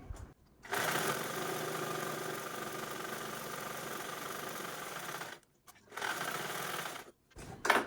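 A sewing machine stitching a doormat runs in a steady, buzzing whir, stops briefly, then resumes for a shorter run before halting.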